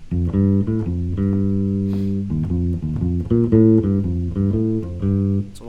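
A bass guitar plays a middle school jazz technical study, plucking a steady walking line of clear, separate low notes up close with no talk.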